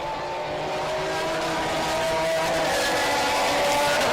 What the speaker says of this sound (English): these are the P9 Championships prototypes getting ahead, and the race leader, ooh, just shot into the view